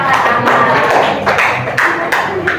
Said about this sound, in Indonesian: Tepuk tangan dong, berani angkat tangan.